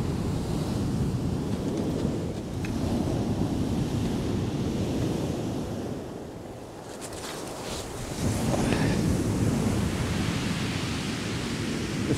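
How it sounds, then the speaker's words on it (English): Huge waves crash and roll onto a blustery beach during a sea fishing competition, a continuous roaring surf with heavy wind buffeting the microphone and one brief lull midway. "The waves out there are absolutely huge."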